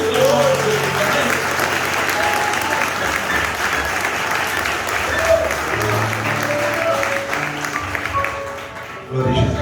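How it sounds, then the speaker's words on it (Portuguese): A congregation applauding together during a regional youth church service, loud sustained clapping that fills the room and fades near the end, with a voice speaking over it. "E as palmas louvam e glorificam o nome de Jesus."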